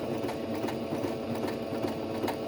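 An electronic sewing machine runs at a steady speed, its needle mechanism giving a close, rapid rhythmic whirring and clatter with no voices.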